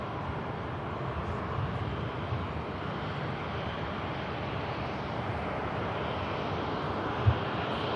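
A jet aircraft rumbles at Manchester Airport, a broad, steady roar heard from a distance with wind buffeting the microphone and no talking.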